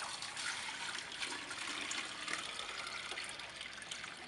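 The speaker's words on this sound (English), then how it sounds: "So if I dump water into the strainer basket" Water is dumped into the strainer basket of a pool pump under repair, giving a steady close splashing and gushing rush that continues evenly throughout.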